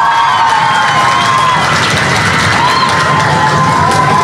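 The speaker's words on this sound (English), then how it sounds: "Give yourselves a big round of applause." Schoolchildren at an elementary school celebration burst into loud, continuous cheering and shouting mixed with clapping, a close, dense crowd noise that holds steady throughout.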